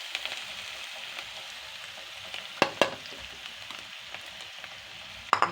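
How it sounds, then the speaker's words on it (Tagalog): Onions fry in a pan with a steady, soft sizzling hiss. A few sharp clicks of utensils come near the middle and again at the end. "Lutuin natin yung sibuyas ha."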